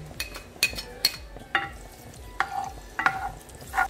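Garlic frying in oil for dry sinigang with pork, a steady close sizzle broken by repeated metallic clinks of a utensil stirring in the pan.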